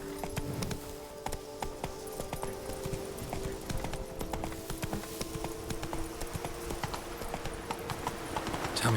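A horse in The Witcher 3 video game clip-clops along at a quick, rhythmic gait, its hoofbeats moderately loud over a soft sustained musical backdrop.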